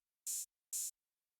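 Two short, crisp 808 hi-hat hits, each a hissing, scissory tss about a fifth of a second long, evenly spaced and isolated against silence.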